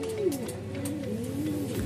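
A pigeon in a breeding loft gives a soft, throaty coo: a short rolling phrase that rises and dips, close and clear, with no voices over it.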